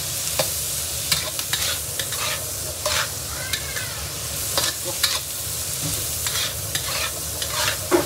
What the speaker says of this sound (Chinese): 开大火炒一下这个蒜苔，蒜苔给它炒软一点。